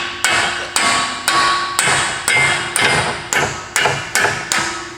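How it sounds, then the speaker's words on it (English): Repeated sharp metal hammer blows on a car's CV axle, about ten strikes at a steady rhythm, loud and close with ringing after each hit. "looks like I am going to need to use my hammer"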